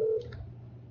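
A ShoreTel Connect desktop client places a phone call: a short steady tone sounds first, followed by a couple of faint quick beeps over a quiet background.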